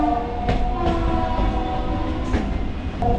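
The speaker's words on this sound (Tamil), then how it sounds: "ஒரு ஹாரன் சவுண்ட் மட்டும் ரொம்பவே சவுண்டாக கேட்டுட்டு இருந்தது" A train horn blares steadily over the rumble and clatter of a moving suburban train between Chennai Central and Pattabiram, loud and close, with a few sharp knocks along the way.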